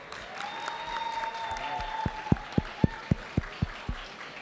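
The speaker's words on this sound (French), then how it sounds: "On peut l'applaudir quand même bien fort." Audience applause at a French public forum, a soft crowd clapping under a sustained tone, then a few loud, evenly spaced individual claps standing out near the end.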